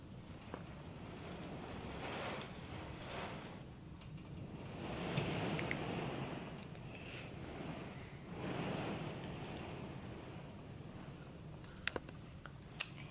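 Hurricane Ida's wind gusts roar outside a house, rising and falling in broad surges, faint and muffled with occasional knocks and clicks.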